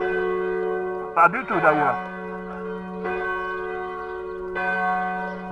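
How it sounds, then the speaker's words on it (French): Church bells ring from the presbytery at the corner of rue Saint-Siméon and rue Lavaux in Houtain-Saint-Siméon, a steady sustained toll with long resonant decays and fresh strikes every second or two, with a brief spoken remark over them. "C'est beau quand même les cloches"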